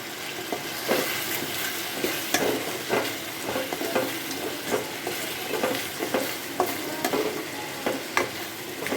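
Continuous sizzling of soya rice frying in oil in a pan, with regular scraping taps of a spatula stirring throughout.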